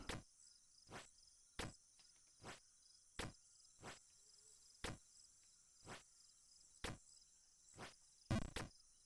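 Crickets chirp in the Jump King game's ambience, a faint steady high trill broken by regular sharp clicks roughly every second, with a doubled click near the end.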